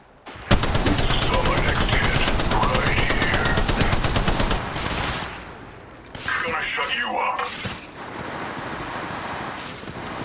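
Dense automatic gunfire in Apex Legends Mobile, loud rapid bursts filling the first half, then a pause and another sustained volley, with in-game voice callouts mixed in.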